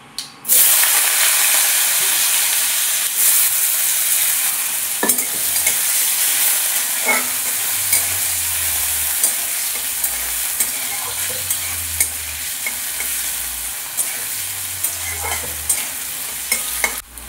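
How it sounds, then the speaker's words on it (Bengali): Potatoes frying in a pan over medium heat give a continuous, even sizzle with soft stirring scrapes and low thumps; no one speaks. "এবার এতে আলুটা ভেজে নেব।"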